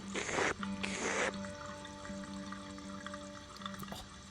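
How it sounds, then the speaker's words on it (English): Cartoonish drinking-from-a-water-fountain effect in the Thimbleweed Park adventure game: two short splashy gulping bursts of liquid, then a fainter trickling tail over a soft electronic tone, close and clear with no talking. "this is how someone actually thinks it sounds like to drink from a water fountain"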